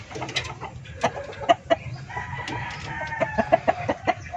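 Texas gamefowl chickens cluck in short bursts while a rooster crows among them, a lively farmyard flock nearby with no one speaking.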